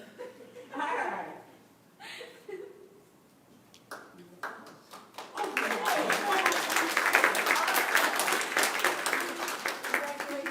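A reception crowd breaks into sustained, fairly close applause mixed with cheers and laughter, following scattered talk and chuckles.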